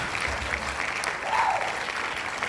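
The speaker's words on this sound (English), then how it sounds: "That's not a lot of people clapping" An audience claps at a garden event, producing a steady, moderate patter of many hands with no clear peaks, sustained for a few seconds.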